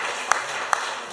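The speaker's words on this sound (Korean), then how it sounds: "우리 박수로 한번 격려하겠습니다." A church congregation at a Sunday evening service claps, a dense, sustained wash of applause from many hands in a room, with a few sharper claps standing out.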